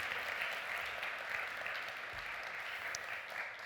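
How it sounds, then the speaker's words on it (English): Audience applause after a speaker's talk at the REFRESH2016 conference, a steady, even wash of many hands clapping that holds for the whole stretch at moderate, slightly distant level. "Round of applause for Lewis."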